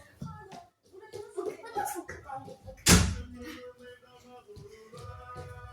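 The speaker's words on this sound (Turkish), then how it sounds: "Kendi kendine kapı kapandı." An indoor door swings shut by itself with one sharp slam midway, amid people talking and moving about in a room.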